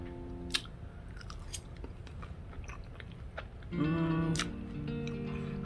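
Close, crunchy chewing and biting on vegan chicken-style thigh in barbecue sauce, with steady wet mastication and a few sharp bites, heard alone with no talking.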